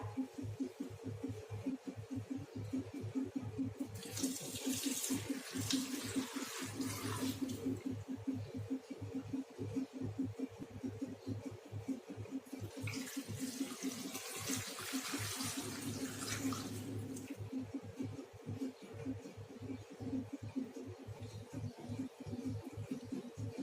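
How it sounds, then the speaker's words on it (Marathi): Water splashes into a metal pressure cooker holding potatoes in two separate pours, each lasting a few seconds, over a pulsing low hum. "आता आपण त्यामध्ये पाणी टाकूया"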